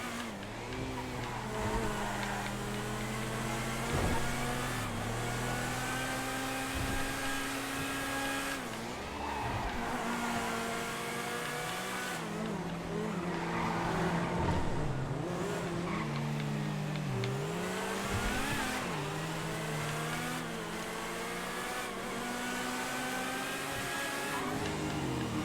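An FM GTE race car accelerates in a GTA FiveM racing session, a steady high-revving engine whine rising and falling through gear shifts, continuous and moderately quiet throughout.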